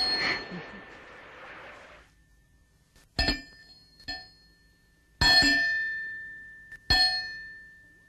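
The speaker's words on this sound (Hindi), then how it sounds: "अब जब भी मुझे बुलाना हो ये घंटी बजा देना" A small hand bell is rung in three separate bursts, each a bright ringing clang with a lingering metallic tone, after a few seconds of quiet rustling and soft background sound.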